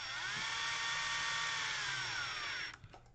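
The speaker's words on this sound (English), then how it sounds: "And I never get too carried away about tightening them with power wrench." A small power wrench tightens bolts on an Associated T6.4 radio-controlled truck with modified foam tires, giving one steady high whine for nearly three seconds before it stops, followed by a few faint handling clicks.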